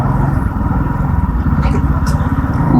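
Motorbike riding along the open M9 motorway in Pakistan near a toll plaza, with a steady, loud low engine drone and wind rumble continuing throughout, no voices.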